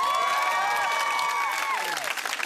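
A studio audience claps and cheers to vote for a contestant, a loud, dense burst of applause with excited shouting and whoops.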